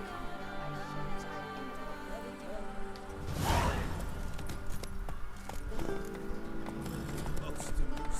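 Hooves of the horse Roach clip-clop in The Witcher 3, a steady trot with a whooshing swell partway through, heard over game ambience and a voice talking.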